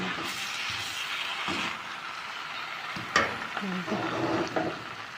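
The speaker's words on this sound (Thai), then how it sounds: "ผัดก๋วยเตี๋ยวอีกมือหนึ่ง" Close, steady sizzling and scraping of pad see ew noodles being stir-fried in a hot pan, with a few louder clanks of the utensil partway through.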